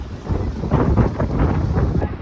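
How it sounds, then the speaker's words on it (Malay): Wind buffeting a microphone at an east coast beach, a rough low rumbling roar that swells and gusts, loud and continuous for a couple of seconds. "Buat ni aku rasa korang dengar punya angin ni."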